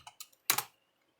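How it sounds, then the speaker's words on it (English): A few quick keystrokes on a computer keyboard, then a slightly louder double tap, close and brief, followed by silence. "Could try typing in Enki."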